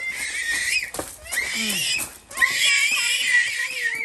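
A child screams shrilly and piercingly while a family packs up to head home from a rainy trip, with loud sustained wails broken by short gasps, close to the listener.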